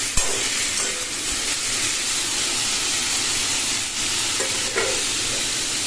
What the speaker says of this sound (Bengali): আমি সবজিটাকে একটু খুব ভালো করে ভেজে নেব।